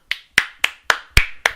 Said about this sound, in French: Applaudissements, bravo.